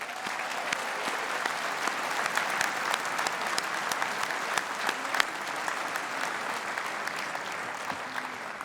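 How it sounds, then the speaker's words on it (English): A dinner audience at a college football awards dinner gives a sustained, loud round of applause for US armed forces members, thick, continuous clapping from a large room with individual sharp claps popping through. "To all of our armed forces represented this evening, we salute you and we thank you with a round of applause"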